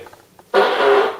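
A man breaks wind on command, a single loud, drawn-out raspy fart of about three quarters of a second that begins abruptly after a few faint sounds.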